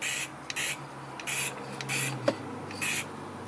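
Several short bursts of Krylon acrylic aerosol spray sealer hiss in an irregular rhythm, close by, with a faint tap between them and quiet pauses in a still room.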